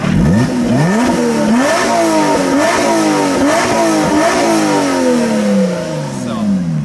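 The Toyota V6 in a Lotus Exige S revs hard again and again, each loud rising howl climbing toward the 7,000 rpm redline before dropping back, with a close, continuous engine roar and no talk.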